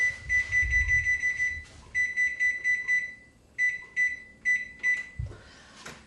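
A kitchen oven being set to 425 degrees gives out rapid runs of high electronic beeps, each press chirping several times in quick bursts with short gaps between, close and clear, with a soft thud near the end.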